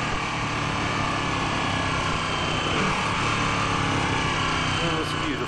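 A 2016 Ducati 1299 Panigale S engine drones loud and continuous as the bike rides at speed through the gears, a dense steady roar with a rider speaking over it.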